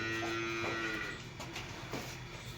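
A dairy buffalo gives a single drawn-out, low moo at close range, then the call fades and a quieter farmyard background continues.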